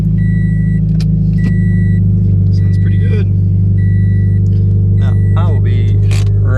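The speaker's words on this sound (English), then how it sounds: "This car is quite loud on cold start." A Scion FR-S sports car idles loudly just after a cold start, its engine humming in a steady, close drone while a person talks over it.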